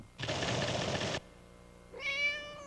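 Within a Purina Cat Chow commercial, a burst of broadband noise is followed by a single clear, drawn-out cat meow near the end, heard alone and fairly close.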